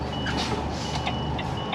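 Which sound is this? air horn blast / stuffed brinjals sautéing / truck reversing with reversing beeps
truck reversing with reversing beeps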